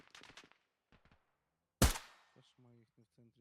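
A single sharp, loud gunshot cracks out in the military shooter game Arma Reforger, set between short bursts of talk and a few fainter tonal game sounds.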